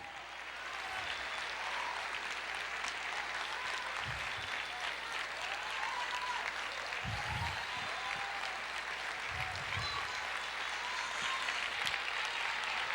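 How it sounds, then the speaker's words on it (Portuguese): Audience applause at a church service, sustained clapping throughout, fairly distant and soft, with a few low thumps breaking through mid-way. "Pode aplaudir"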